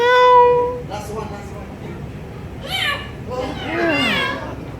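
At a bird show in Creek Park, Dubai, a bird imitates a cat: mewing, cat-like calls ring out, a high whistled note followed by wavering meows, close by amid faint background chatter.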